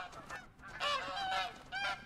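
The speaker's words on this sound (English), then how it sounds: "Canada geese, is it?" Canada geese honk in a game setting on the Revontuli Coast, with two loud nasal calls in quick succession followed by a third after a short gap.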